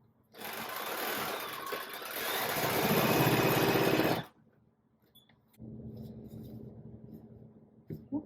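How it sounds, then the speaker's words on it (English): A sewing machine runs in a loud, steady whir for about four seconds while stitching a quilt seam, stops briefly, then starts again at a lower, slower hum to sew carefully over pins. "With fork pins, I like to sew over them really slowly, just so I can make sure that my seam is nice and set"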